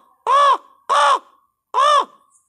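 A person imitates a crow's caw to call crows, three loud, harsh, nasal caws spaced roughly half a second apart, close and alone in silence.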